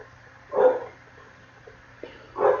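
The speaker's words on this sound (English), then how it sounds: "there's a dog downstairs where I'm living." A dog gives two muffled barks from downstairs, about two seconds apart, fairly faint and distant over a quiet room hum, with no one talking.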